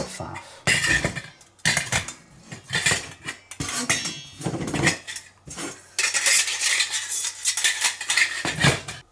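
A 1.3 litre metal pot slotted into a wood gas stove, with repeated close metallic clanks, scrapes and rattles coming in bursts and pauses, no talking.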